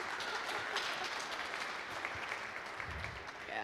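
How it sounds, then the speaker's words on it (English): A conference crowd applauds a volunteer with steady, dense clapping that stays even throughout, heard at a distance and fairly faint. "Round of applause for our volunteer."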